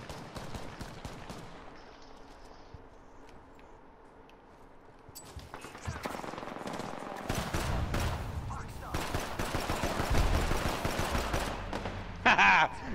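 P2020 pistol gunfire in Apex Legends, rapid layered shots from an ongoing firefight, some distant and others close and loud, joined by game effects and players talking over the action.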